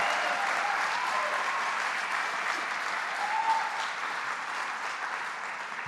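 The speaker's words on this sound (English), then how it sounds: "Let's give him a round of applause." A crowd at a labor-backed political rally for a $15 minimum wage in Central New York claps steadily, a broad, even roar of applause holding at a moderate level with little variation throughout.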